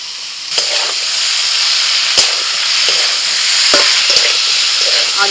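Boiled taro greens with potatoes frying in a pan, giving a steady loud sizzle with scattered clinks and scrapes of stirring throughout.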